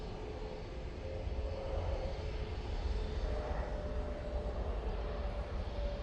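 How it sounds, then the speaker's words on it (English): Hainan Airlines passenger jet arriving from Beijing and landing at Manchester Airport, a steady loud roar of engine and rushing air with a low rumble that holds through the whole stretch. "Beautiful landing. That's coming from Beijing."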